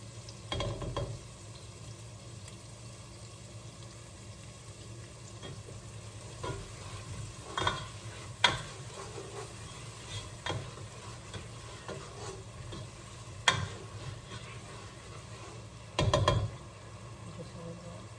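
Chicken frying over medium heat in a pan with black pepper and fish sauce, a steady low sizzle with scattered stirring scrapes and clinks throughout.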